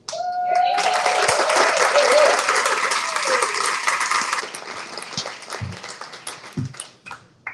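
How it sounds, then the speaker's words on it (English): An audience at a school board event breaks into applause that swells quickly, holds as a dense wash of clapping for a few seconds, then thins out to scattered claps and a few stray noises. "Was there anybody that did not clap for me?"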